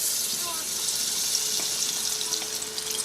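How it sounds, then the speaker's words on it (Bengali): Ginger garlic paste sizzling in hot oil in a wok, a steady close hiss with light crackle that stays even throughout, no one talking. "তেলটা হালকা একটু গরম হয়ে গেলে আমরা এখন সামান্য একটু আদা রসুন বাটা দেবো"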